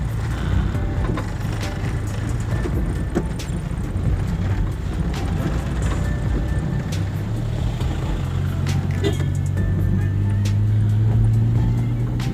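A car creeps slowly in first gear along a badly broken, rough road, its low engine drone and rumbling tyres steady and close throughout, with faint knocks from the uneven surface.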